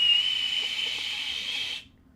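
A voice imitates a train whistle with a single sustained, breathy high whistle lasting under two seconds, then cuts off abruptly.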